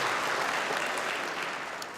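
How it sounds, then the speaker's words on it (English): A convocation ceremony audience claps together in a dense, continuous burst of applause that fills the hall and eases off slightly at the end. "Give yourself a hand."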